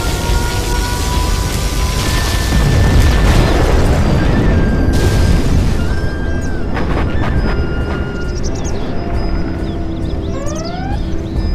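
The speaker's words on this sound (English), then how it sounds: "We have launched our nuclear missile." A nuclear missile explosion in a video game: a deep, sustained rumbling blast roars under game music and effects, with a sharp crack midway and electronic tones sweeping near the end.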